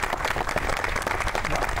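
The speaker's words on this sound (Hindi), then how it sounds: "आपकी भरपूर तालियां।" A crowd applauds at a humorous poetry recital (mushaira), producing a dense, loud burst of clapping that holds steady through the short moment.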